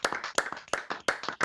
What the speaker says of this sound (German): Also mein Applaus, Captain Sebi.